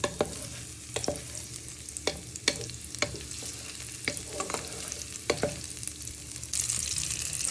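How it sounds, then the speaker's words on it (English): Squid frying in a pan with chorizo for a slow-cooked casserole, a steady sizzle broken by sharp clacks of a utensil stirring and scraping every second or so, the frying swelling louder near the end. "Then we will fry our squid, but we're doing that stage by stage."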